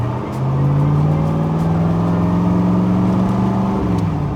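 A 1967 Chevrolet Corvette big block with close-ratio M20 gearbox pulls hard, its loud engine note rising steadily under acceleration before a shift near the end, with no talking.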